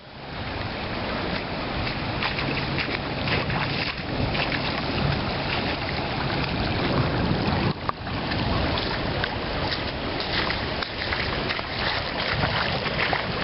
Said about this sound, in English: And this is the water that's coming down